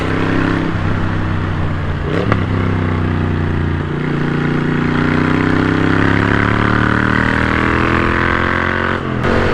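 A Moto Guzzi motorcycle engine runs steadily and close for the whole stretch, a loud, even drone with a slight rise in pitch partway through and no voices over it.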